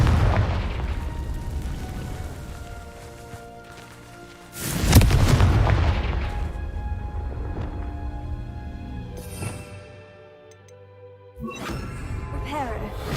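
Confringo blasting spell cast in the video game Hogwarts Legacy, a loud sudden explosive boom with a crackling tail, followed by lighter magical effects and game sounds, with a voice talking.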